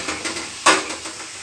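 Spoon stirring a cucumber raita mixture in a pan, a soft scraping with one brighter clink midway, close and alone.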